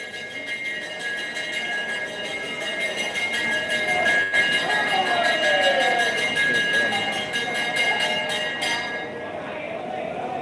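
An auction bell rings in quick, repeated strokes over the steady chatter and background hum of a busy wholesale onion market in Solapur.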